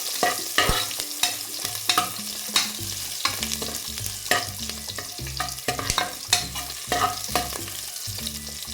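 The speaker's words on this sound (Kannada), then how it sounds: "ಈರುಳ್ಳಿ ಚೆನ್ನಾಗಿ ಕನಗಬೇಕು, ಈ ಥರ ಅಂದರೆ ಫ್ರೈ ಆಗಬೇಕು ಅಂತ." Chopped onions frying in oil in a pan for sambar, a steady sizzle broken by repeated rhythmic scrapes and clinks of a spoon stirring, close and continuous with no voices.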